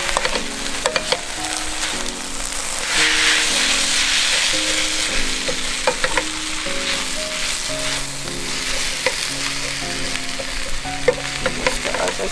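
Japchae glass noodles stir-fry in a hot pan, a continuous close sizzle with frequent stirring scrapes and clicks over background music.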